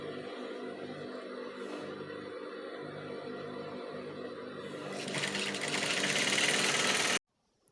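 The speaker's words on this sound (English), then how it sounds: "then you continue sewing" A sewing machine stitches fabric for a pleated kaftan maxi dress, a steady buzzing mechanical hum that speeds up and grows louder toward the end before stopping abruptly.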